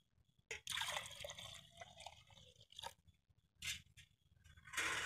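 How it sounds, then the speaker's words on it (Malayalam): Washed, boiled ada rice flakes for Onam ada pradhaman have their water drained off, giving wet splashing, trickling and dripping sounds in close, uneven bursts with brief pauses and no talk. "ഇതിലെ വെള്ളം നമ്മൾ ഊറ്റിക്കളയണം"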